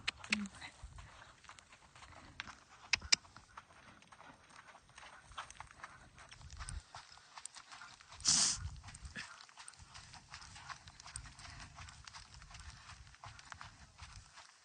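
Steady rhythmic hoofbeats of a riding horse trotting on soft ground, moderately close, with a brief louder rustle partway through and faint talk at the start.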